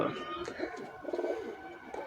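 Giribaz pigeons coo in soft, low, rounded calls that repeat and overlap steadily throughout, close by at a pigeon farm with a faint murmur of background noise.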